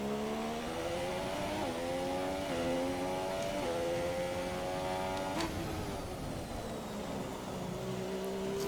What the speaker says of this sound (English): Full throttle now.